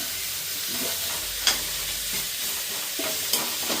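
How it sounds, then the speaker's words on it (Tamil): Radish sautéing in a pan for sambar, a steady close sizzle with scraping spatula strokes and a few sharper clinks as the pieces are stirred. "இப்போ முள்ளங்கி போட்டு நல்லா வதக்கணுமா?"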